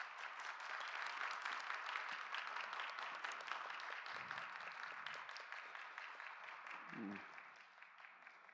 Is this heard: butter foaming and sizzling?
no